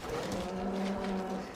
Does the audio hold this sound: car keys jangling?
no